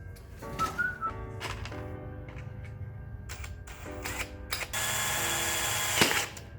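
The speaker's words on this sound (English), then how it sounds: "I'm gonna start drilling the hole into there." A power drill whirs in short bursts that rise and fall while drilling a hole for a custom horn setup on a Toyota Supra, then settles into a steady high-pitched grind near the end, close and loud.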